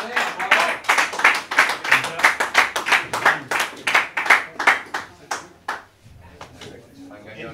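A group claps in a steady rhythmic beat at a football press conference after a final, the sharp claps coming evenly for about six seconds before they slow and fade out.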